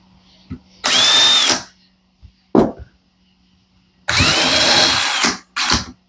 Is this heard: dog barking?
no